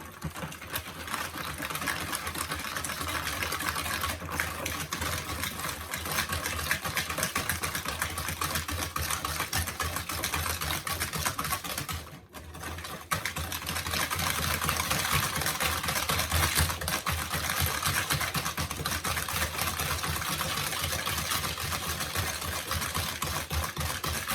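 Close and steady, an electric whisk whirs continuously while beating eggs into banana cake batter, with one brief dip partway through and no speech.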